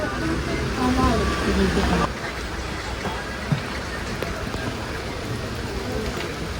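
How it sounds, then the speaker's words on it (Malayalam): Heavy rain falls during a rainy-season rail trip on Kerala's Shoranur–Nilambur line, a dense steady hiss that is louder for the first two seconds and then settles into a softer, even roar. "നല്ല അടിപൊളി മഴ."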